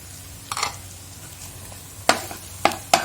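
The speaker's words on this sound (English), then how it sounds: "So just gonna mix them well." Chili is stirred into pasta frying in a pan, a soft steady sizzle broken by a few sharp scraping clinks of a utensil against the pan.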